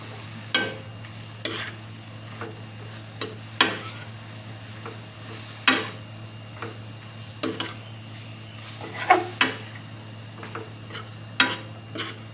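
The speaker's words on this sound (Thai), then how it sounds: "บ้วนหมูให้สุกกันเด้อ" Pork stirred and fried in a pan, a steady low sizzle broken by sharp scraping clatters of the spatula against the pan, about a dozen irregular strokes, close and loud.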